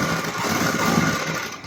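A sewing machine runs steadily while stitching the back seam of a blouse with a half-inch margin, giving a continuous close mechanical hum throughout.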